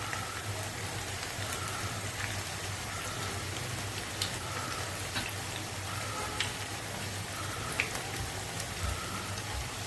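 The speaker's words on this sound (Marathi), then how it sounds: "एक ते 2 मिनिटं चांगले फ्राय करून घ्यायचे एका बाजूने" Manchurian balls frying in oil in a pan, a dense, even sizzle with scattered crackles and pops, steady and fairly quiet throughout, with no talking.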